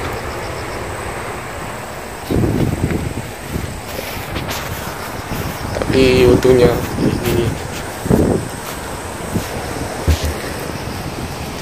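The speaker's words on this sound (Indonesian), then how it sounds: "hanya terjadi angin yang kencang banget" Strong gusty wind blows loudly outdoors under dark clouds, roaring and buffeting the microphone in repeated surges, while a person speaks in Indonesian over it.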